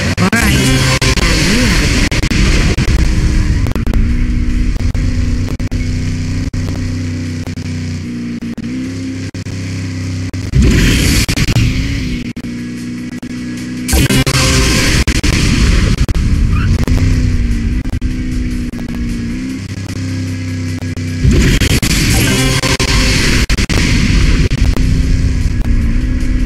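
Engine roar and turbo boost bursts from a car racing on an oil rig in the Cars 2 video game, loud sustained revving broken by sudden surges as the boost kicks in, with a brief dip in level between bursts.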